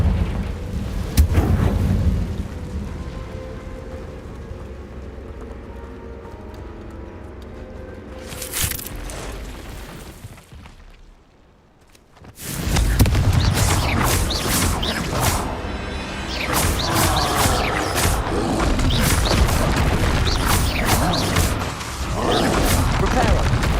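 Confringo blasting spell in Hogwarts Legacy on PC: a loud, broad explosive roar erupts after a near-silent gap and rumbles on with crackling debris and game effects, following quieter ambience and a brief burst, with a shouted incantation heard.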